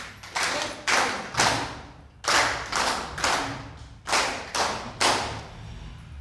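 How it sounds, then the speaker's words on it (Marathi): An audience at a gathering clapping together in unison, three groups of three loud, sharp claps with short pauses between the groups, no voices. "3 टाळ्या वाजवायच्या."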